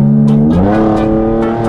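Chevrolet Camaro accelerating, a loud engine note rising in pitch partway through as the car pulls away, steady and close throughout.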